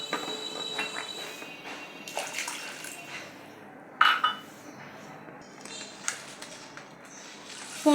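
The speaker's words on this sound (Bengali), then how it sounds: "2 কাপ ফুটন্ত গরম পানি দিয়ে দিব।" Two cups of boiling water poured over lentils set to soak for haleem: a running, splashing pour with a few light clinks against the container, moderately close, no speech.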